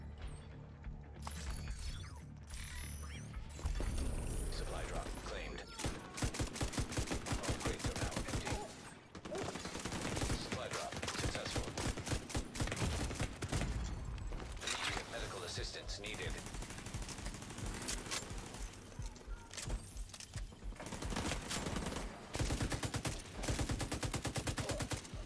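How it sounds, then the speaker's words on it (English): Many shooters in a video game battle fire at once, producing dense, continuous rapid gunfire and machine-gun bursts that stay loud throughout. "I've got a lot of people shooting"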